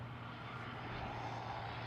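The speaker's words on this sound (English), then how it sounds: "we are going to film Sam his plane, a British Airways" A British Airways airliner at Amsterdam Schiphol airport gives off a steady, distant jet engine roar, a broad even rumble with a low hum underneath and no talk.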